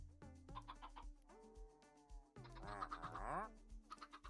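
Chickens in the Minecraft video game cluck in a quick series of short, pitched calls from a small flock, close and clear with no talk over them.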